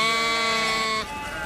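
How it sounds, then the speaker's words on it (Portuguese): Flock of lactating Lacaune sheep on a farm in the Roquefort cheese region, one sustained, loud, close bleat that cuts off partway and then continues more faintly. "São 400 ovelhas em lactação, todas da raça Lacone, nativa da região."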